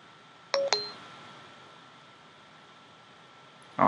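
A short two-tone electronic beep from the dictation button at the bottom of the Notes app on an iPhone, two quick tones near the start over steady hiss, then a brief noise at the end.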